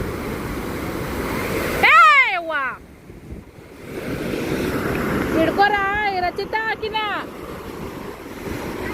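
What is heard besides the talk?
sea waves crashing around the shore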